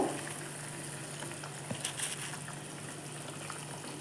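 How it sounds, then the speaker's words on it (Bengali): Curry gravy boiling in a pan as fried kofta balls of green banana are dropped in, a steady soft bubbling hiss with a couple of brief splashy plops near the middle. "ঝোলটা ফুটে গিয়েছে। এবার ভেজে রাখা কোপ্তাগুলো এর মধ্যে দিয়ে দেব।"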